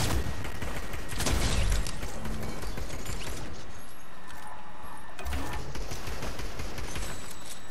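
Dense, rapid gunfire from enemies in a Fortnite match crackles in repeated bursts, loud and busy throughout with a thick layer of game noise and no speech over it.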